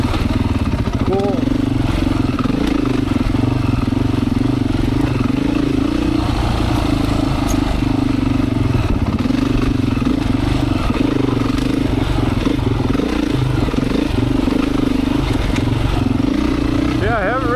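A Beta 500 motorcycle's engine drones steadily while being ridden, a constant close mechanical hum with clatter from the trail, and a rider talks over it throughout.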